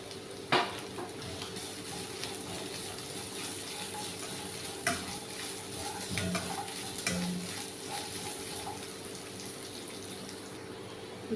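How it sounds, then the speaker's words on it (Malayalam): Cashews and coconut pieces fry in ghee for a caramel payasam, giving a steady close sizzle with a few sharp stirring clinks and scrapes throughout. "അണ്ടിപ്പരിപ്പും തേങ്ങാക്കൊത്തും ഒന്ന് നെയ്യിൽ പൊരിച്ചെടുക്കാണ്ട് കേട്ടോ"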